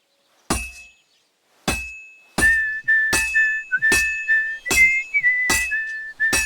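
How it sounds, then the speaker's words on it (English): A hammer strikes a sword on an anvil in the video game Kingdom Come: Deliverance 2, sounding a series of sharp metallic clanks, first spaced out and then quicker, each with a lingering high ringing tone, loud and close. "Now take the hammer and try hitting it a few times."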